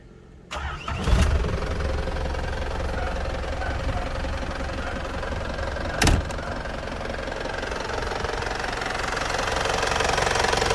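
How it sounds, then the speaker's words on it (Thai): A Land Rover Series 2A fitted with an imported factory 2.8 turbo diesel cranks, catches and settles into a steady, loud idle with a knocking rumble, a brief rev bump partway through, and a slight rise at the end. "เดี๋ยวผมไปสตาร์ทเครื่องให้ดูครับผม"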